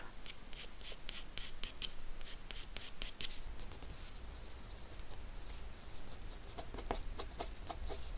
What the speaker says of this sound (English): I'm going to go for light ochre colored pencil, and I'm going to start creating the beautiful texture that rose petals have.